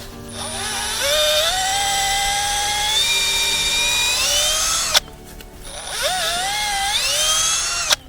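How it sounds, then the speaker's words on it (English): A power drill whines up to speed boring a tap hole about 2 inches deep into a maple tree, pausing briefly, then revving again; loud and close, with no voices. "you don't want to drill your tap hole more than 2 inches deep"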